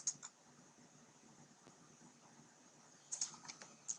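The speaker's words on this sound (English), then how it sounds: "Let's type in the name of one of our guests." Keys tapped on a computer keyboard to enter a guest's name into a wedding website RSVP form, a few faint, sparse clicks at the start and near the end over quiet fan-like hiss.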